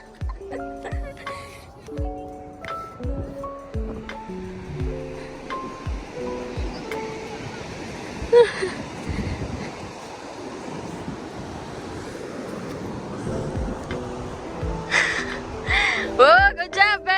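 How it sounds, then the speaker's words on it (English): Big ocean waves break and wash along a beach in steady surf with wind buffeting the microphone, while people talk over the noise and music plays through much of the stretch. "It was big wave."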